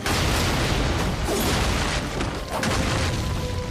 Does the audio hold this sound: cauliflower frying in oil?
no